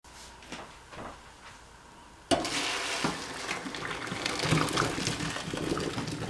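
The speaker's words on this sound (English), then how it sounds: "I drained my potatoes." Water from a pot of boiled potatoes is poured off into a sink in a home kitchen, a sudden loud splashing gush starting partway through and running steadily to the end after a quiet stretch.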